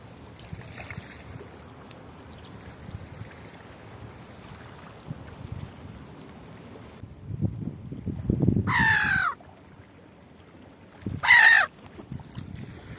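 Seagulls circle an opened oyster on a beach rock near Carnac on a freezing day, giving two loud, harsh calls a few seconds apart over wind and surf rumble.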